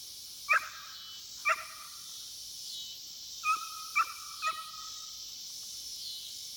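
A female dog gives five sharp, spaced barks and yips at moderate distance, alone against quiet outdoor background.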